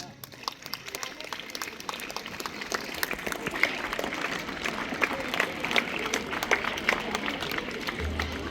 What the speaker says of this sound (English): Children's clap.